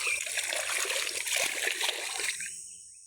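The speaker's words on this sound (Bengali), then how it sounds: "ওখান থেকে জল যত ছিটছে" Water splashing and gurgling out of holes in the ground, a close, continuous rushing spatter that cuts off abruptly near the end.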